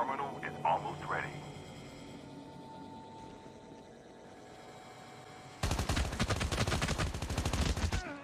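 Rapid bursts of gunfire from the mobile shooter Call of Duty Mobile in a solo versus squads match, loud and dense, breaking in suddenly after a quieter stretch with faint voice-like sounds and continuing as a fast, heavy volley to the end.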